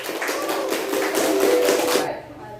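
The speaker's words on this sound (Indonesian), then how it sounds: "Tepuk tangan untuk Derisa" A classroom of students applauds the first-place winner, brisk steady clapping that stops abruptly after about two seconds, with a few voices underneath.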